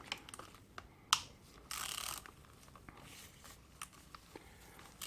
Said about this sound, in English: once you've cracked them off, you can get rid of the ratchets